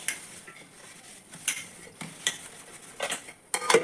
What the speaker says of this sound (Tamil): அதையும் நான் நல்லா தேய்ச்சி கழுவி வச்சுருவேன்